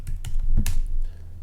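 A few loud, close keystrokes on a computer keyboard in a short, uneven burst.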